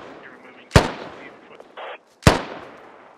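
Gunfire in the military shooter Squad: two sharp, loud shots about a second and a half apart, each with a decaying echo, between faint distant battlefield noise.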